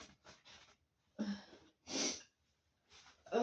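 A person sneezes several times in a quiet room, a series of short, sharp nasal bursts with pauses between them and no talking.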